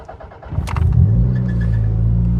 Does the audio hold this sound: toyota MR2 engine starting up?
yes